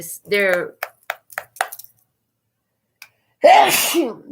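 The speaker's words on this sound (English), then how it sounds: "that was a really loud sneeze" Brief talking and a few short clicks are followed by a pause, then one loud, explosive sneeze very close up.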